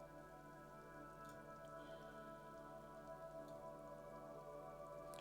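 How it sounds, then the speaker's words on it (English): Steady rain falls in the video game Disco Elysium, a continuous soft patter with faint drops ticking over a low droning ambient bed, heard alone without talk. "Rain falls down on the world."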